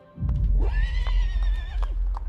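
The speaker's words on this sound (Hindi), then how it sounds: "General sir, I've bought you a horse just like you ordered." A horse gives a loud, close whinny that rises and then wavers before fading, with a low rumble and a few hoof clops underneath.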